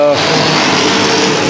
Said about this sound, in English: they're cutting the decking up. That's all that noise you hear in the background.